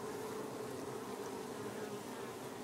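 Honeybees fanning at the hive entrance during a heatwave, a steady, dense insect drone that holds level and loud throughout, with no talk over it.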